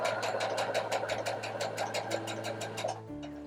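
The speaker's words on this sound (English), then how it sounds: "So I'm going to sew right up to this X." A sewing machine stitches fabric, sewing up to a marked point at a corner, with a rapid, steady mechanical chatter of needle strokes that runs close and even for about three seconds, then stops with a softer motor hum.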